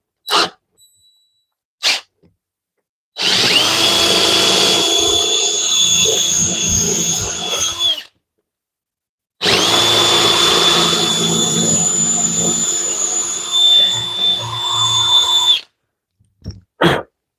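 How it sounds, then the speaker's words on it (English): A power drill bores into a wooden workbench in two long runs of several seconds each, a loud steady whine with a high tone, separated by a pause and framed by short clicks. "There is a freedom in being able to drill into your workbench"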